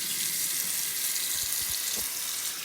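Tap water pours steadily into a kitchen sink as cabbage is rinsed, a continuous close hiss and splash with a few faint knocks of handling underneath.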